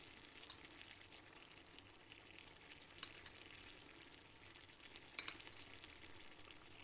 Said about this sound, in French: après avoir bien fait mijoter nos oignons et poivrons, je vais y rajouter de l'ail haché